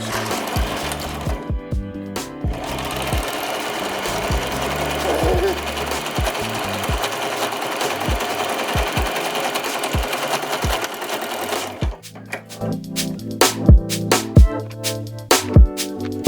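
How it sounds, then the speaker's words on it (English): Sewing machine zigzag stitching and back stitching elastic on a simple girl's skirt, a continuous close mechanical whir for about twelve seconds, then stopping, followed by scattered knocks and handling sounds. "A crisscross or a zigzag, so it sews really nice. Then back stitch."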